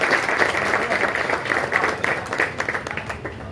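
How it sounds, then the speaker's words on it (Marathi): An audience at a police station gathering applauds for a police inspector, a loud, close wash of many hands clapping continuously with faint voices mixed in. "त्यांच्यासाठी एकदा जोरदार टाळ्या झाल्या पाहिजे।"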